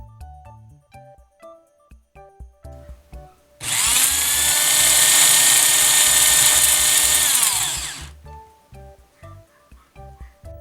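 An old electric drill runs as a test load for an AC clamp meter. It whirs loudly and steadily for about four seconds, then winds down, with quiet clicks and handling noises before and after.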